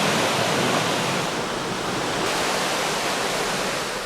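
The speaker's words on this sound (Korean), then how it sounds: "오로지 폭포 소리에 귀 기울여 마음 비워보는 시간." A waterfall at a mountain temple retreat pours in a dense, constant rush of white water, loud and close, filling the air with no voices.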